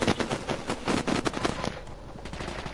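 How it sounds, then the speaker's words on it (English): Rapid gunfire in a video game, dense bursts of automatic shots rattling loudly and nearly continuously, thinning slightly toward the end, with no talk over it. "Harry, I hear someone shooting."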